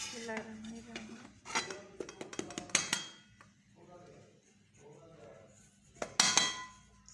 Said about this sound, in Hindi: अब हम इन्हें डिश आउट कर लेंगे